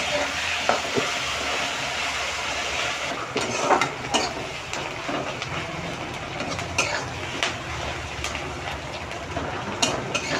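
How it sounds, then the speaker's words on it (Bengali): Onions sizzle steadily in a hot pan while a spoon stirs and scrapes them in irregular bursts, cooking for Bengali echor chingri, a jackfruit and shrimp dish. "আমার পেঁয়াজটা ভাজা হয়ে গেছে"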